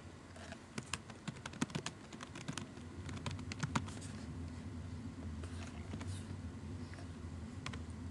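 Typing on a computer keyboard, with bursts of quick key clicks and pauses over a low steady background hum, heard fairly faint and close.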